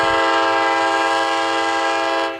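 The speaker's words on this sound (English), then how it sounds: "as the train accelerates very slowly at this one time because some diesel locomotives are just absolutely diesel electric locomotives" A diesel electric locomotive departing with a passenger train sounds a long, loud, steady horn blast close by, holding for over two seconds before cutting off, over a low engine rumble.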